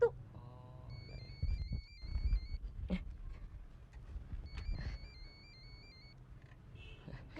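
A mobile phone rings with an electronic ringtone, two long warbling trilled phrases separated by a pause, moderately loud in a quiet room with faint background rumble and no talk.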